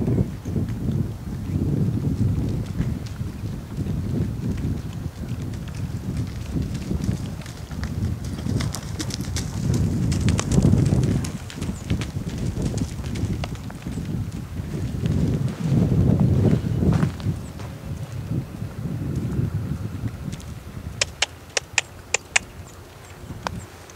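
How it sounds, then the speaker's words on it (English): Horse cantering on a large circle in an outdoor riding lesson, with rhythmic hoofbeats rising and fading as it passes, under steady wind noise and birds. "let's go ahead and ask for the canter. Start on a big circle up here."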